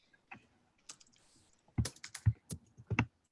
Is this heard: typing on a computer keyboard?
yes